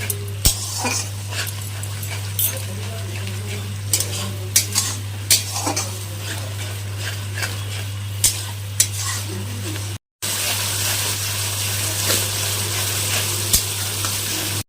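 Spice paste for a chana dal is stir-fried over raised heat, a constant sizzle under frequent sharp clinks and scrapes of a spoon against the pan, with a steady low hum throughout.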